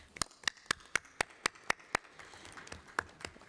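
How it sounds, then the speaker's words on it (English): A few people in a parliamentary meeting clap faintly in a quick, regular rhythm of about a dozen sharp claps that thin out toward the end. "je pense qu'on peut vous applaudir, vraiment"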